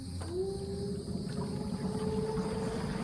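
Small electric skiff's motor winding up under quarter throttle, a steady rising whine over continuous water and hull rush, fairly loud and close with no talk.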